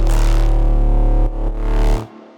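Fabric synth from Klang layered over a pure sine sub bass pitched down three octaves, sustaining a rich harmonic chord with a deep low end, then briefly dipping and ending abruptly after about two seconds.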